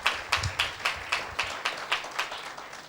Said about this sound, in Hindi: चलिए एक जोरदार ताली देते हैं परमेश्वर की महिमा के लिए।